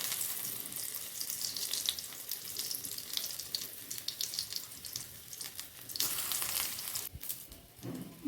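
Pumpkin-seed fritter batter sizzles and crackles in hot oil, a continuous quiet frying hiss with small pops and spatters, no voices.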